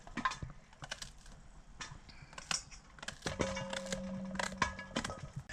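A knife slices wild mountain mushrooms into middle-sized pieces, making irregular soft taps and clicks against a board, fairly close and quiet, with a faint steady hum partway through.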